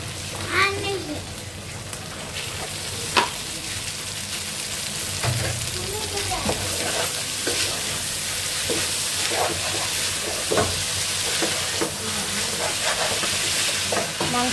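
Pieces of chicken breast sizzle steadily in a frying pan, a continuous hiss with occasional stirring clatter, while a voice chatters intermittently in the background.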